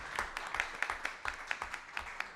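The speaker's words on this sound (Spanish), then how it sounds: "Un fuerte aplauso." Sparse, evenly spaced claps come from a small audience at a panel discussion on media practices and citizen participation, faint and slightly distant, with a low murmur beneath.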